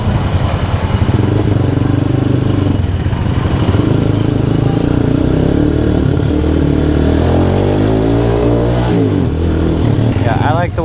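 A motorcycle pulls away in first gear, its loud engine note rising and falling through revs, with a rider talking over the engine noise and wind buffeting throughout.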